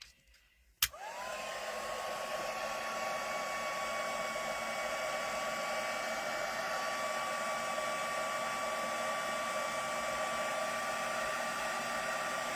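A steady, loud electric blower whine from a heat gun setting ink on a handmade card starts abruptly after a brief quiet moment and holds constant, a high-pitched motor hum with rushing air.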